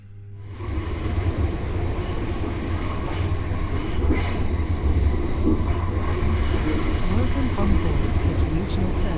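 A First Capital Connect passenger train runs on the rails, a steady loud rumble of wheels and motors heard from inside the carriage, with faint high squeals near the end.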